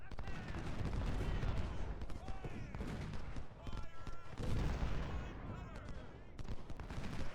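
Artillery battery fires in a Civil War strategy game, booming cannon blasts and crackling musket volleys rolling over each other in a dense, continuous battle din, with a voice talking over parts of it.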